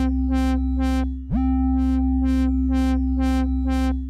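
A synth lead patch built from a sawtooth wave through a low-pass filter swept by a quarter-note LFO pulses in steady wah-like rhythmic throbs over a held tone, with a quick pitch swoop near the start, loud and alone.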